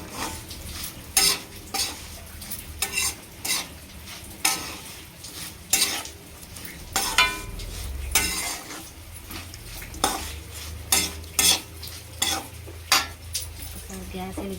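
Potato fry being stirred in a pan, repeated scraping and clinking strokes of a utensil at a steady rhythm, close and fairly loud, with a low sizzle underneath.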